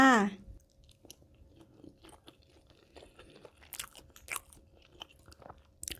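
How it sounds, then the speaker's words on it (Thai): Spicy salmon salad with Vietnamese pork sausage and fermented fish sauce dressing being eaten close to the mic, with soft, repeated crunchy bites and chewing after a brief vocal sound at the start. "วันนี้จะพามากินยำแซลมอนใส่หมูยอค่ะ"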